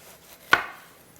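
A knife cuts the top off a pineapple in a single sharp, crunchy chop, close and brief, then quiet.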